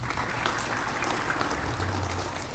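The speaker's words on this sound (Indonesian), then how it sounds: "tepuk tangan dong" Audience applause during a religious talk, a steady, even patter of many hands clapping throughout, moderately loud with a faint low hum underneath.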